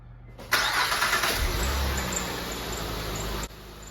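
A Honda Pilot engine cranks and catches after a quiet start, then settles into a steady idle hum, close by and with no talking.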